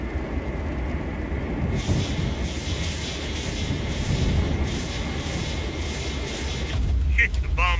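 A bomber plane drones overhead in a Minecraft Modern Warfare air strike, a steady loud engine roar with rumbling low end throughout, a brighter hiss joining partway and a burst of higher chirps near the end.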